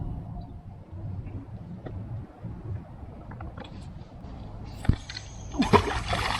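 A magnet on a rope splashes into water during a first magnet fishing outing in North Florida, one sharp splash near the end above a steady outdoor water and ambient wash.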